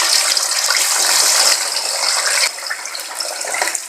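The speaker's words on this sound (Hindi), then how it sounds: "ये ऑयल गर्म हो चुका है, इसमें अरवी डाल रहा हूँ मैं" Taro pieces hit hot frying oil in a kadai and set off a loud, bright, bubbling sizzle that settles slightly partway through and keeps crackling close by, with no one talking.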